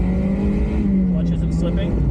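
A Mazda Miata MX-5 engine revs up in first gear with a steady, rising drone close by, and a voice speaks over it.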